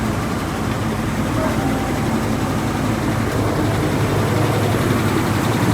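A 2014 RAM 1500 with a Hemi engine idles steadily nearby, a continuous low rumble holding even and loud throughout with no talking.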